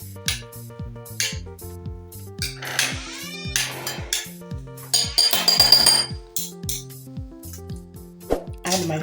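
Onions, carrots and other chopped ingredients are stirred together in a bowl for tomato egg bites, with a utensil repeatedly clinking and scraping against the bowl over steady background music.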